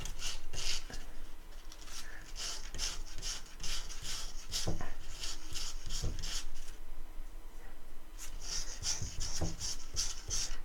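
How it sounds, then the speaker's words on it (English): Small wooden pieces are sanded by hand in a kids' workshop, giving close, repeated scratchy rubbing strokes in an uneven rhythm, with a short pause near the middle before the strokes resume. "now we need to sand these couple of guys too."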